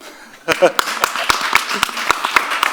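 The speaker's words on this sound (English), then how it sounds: "Now applause for us." Audience at the Adria Future Summit, a startup and investment panel, gives a round of sharp, spaced claps that start after a brief quiet moment and carry on steadily at moderate volume.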